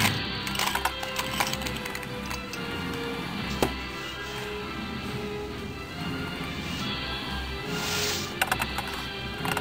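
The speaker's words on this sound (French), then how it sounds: "On va vous le mélanger pour vous donner une idée des formes que ça prend." Plastic pieces of a homemade 3x4x4 twisty puzzle cube clicking and clacking steadily as it is scrambled by hand, close and fairly busy, with brief sharper snaps among the continuous turning.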